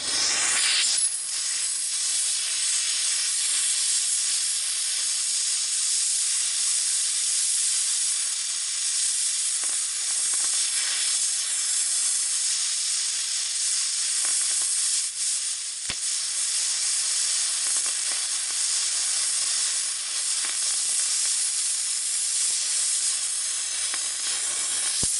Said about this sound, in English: Okay, we're going to try the plasma.